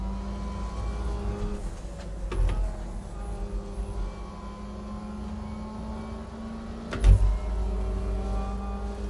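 Race car engine lapping Spa in a sim racing game, a steady loud drone with harmonic whine that shifts pitch through gear changes, with a sharp thump and rev burst near the end.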